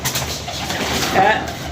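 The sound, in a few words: pigeons cooing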